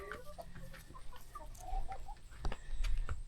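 A molting rooster and chickens cluck softly in short, scattered calls close by, with a louder rustle and shuffling toward the end.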